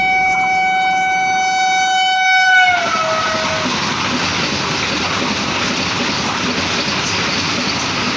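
A loud Vande Bharat Express (Kacheguda–Yesvantpur) train horn sounds in steady harmonic tones for a few seconds, then gives way to the rushing roar of the fast train passing close by.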